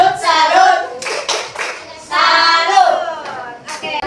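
A class of children clapping a rhythmic salute pattern in a classroom, loud bursts of claps in short groups with brief pauses between them.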